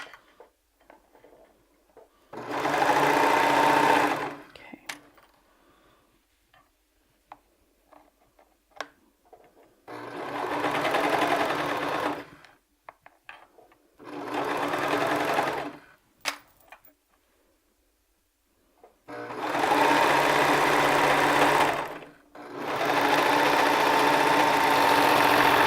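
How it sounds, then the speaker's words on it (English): Sewing machine stitching a fabric gusset, running in four distinct bursts of steady mechanical whirring with quiet pauses between, close and fairly loud. "make sure you're making sure your fabrics aren't, doing anything funky, folding or whatever, and everything is lined up as it should be"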